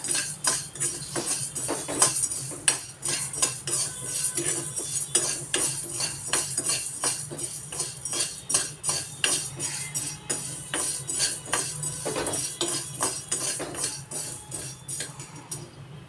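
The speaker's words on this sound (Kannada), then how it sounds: "ಎಲ್ಲವನ್ನು ನಾನು ಒಣವಾಗಿ ಹುರ್ಕೊಳ್ತಾ ಇದ್ದೀನಿ." Dry roasting coriander seeds and cumin in a pan with no oil, the spoon scraping and clinking against the metal in a steady, busy rhythm of close, crisp taps.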